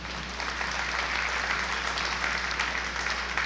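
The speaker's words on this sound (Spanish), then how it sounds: "Dele fuerte el aplauso al Señor." A church congregation applauds during a service: sustained, even clapping from many hands, fairly loud and filling the room without a break.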